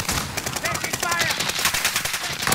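Rapid automatic gunfire in a first-person shooter video game on the Pineside map, a dense, continuous rattle of overlapping shots that fills the whole stretch at steady loudness.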